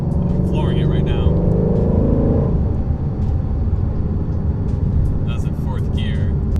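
Shelby GT350 with a 5.2 liter V8 at full throttle in fourth gear from about 2,000 RPM: a loud, deep engine drone fills the cabin, rising in pitch, with someone talking over it.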